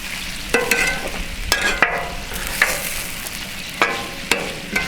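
A spatula scrapes scallops with lemon and garlic across a Blackstone griddle, sharp metallic scrapes recurring every second or so over a low sizzle, close and clear, no speech.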